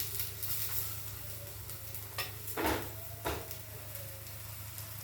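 Roti chila cooking in ghee on a hot pan, a steady low sizzle broken by a few brief scraping clatters as it is turned over, no voices.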